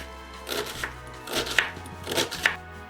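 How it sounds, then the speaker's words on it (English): A knife chops an onion into small bits on a cutting board, with about five distinct close taps spaced unevenly over a few seconds, quiet and alone. "Now we have the onion and we cut it into small bits."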